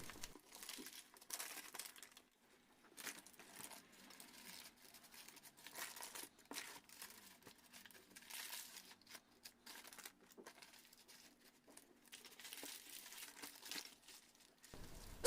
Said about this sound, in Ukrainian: Поки вона ще тепла, скручую у рулет з допомогою паперу, на якому випікалася.